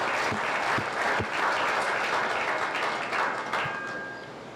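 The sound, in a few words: audience applause at 4-H fair sheep show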